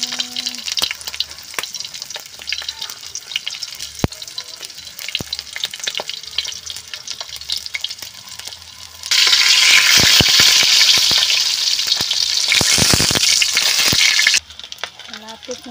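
Tilapia fish frying in hot oil, a crackling sizzle with scattered clinks and stirring that swells into a loud, dense spitting roar midway, then drops back to a lighter sizzle.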